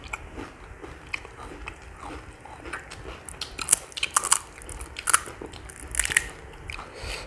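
Crunchy bites into fuchka (pani puri) shells eaten without the sour water, with crisp snaps and chewing crackles repeating close to the mic, sharpest toward the end.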